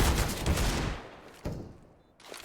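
Gunfire rings out in Counter-Strike at a professional IEM Cologne 2021 match: loud rapid bursts up front, then a sharp isolated shot and a lighter pop later, with quiet commentary beneath.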